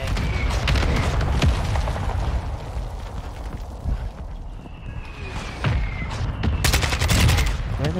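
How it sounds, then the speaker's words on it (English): Dense gunfire and explosions in the video game Warzone 2, loud continuous bursts and booms with rattling automatic fire throughout, heavy and close. "Where are they shooting from"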